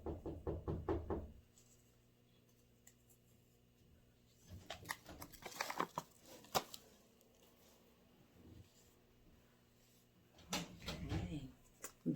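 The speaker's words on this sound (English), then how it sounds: "Baby knocking at the door." A baby knocks on a door indoors, with bursts of quick sharp raps at the start, in the middle and near the end, separated by quiet stretches.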